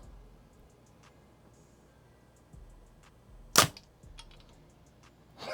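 A V3X compound bow with newly replaced limbs fires an arrow through paper, producing a single sharp, loud snap midway through an otherwise quiet stretch with faint background noise.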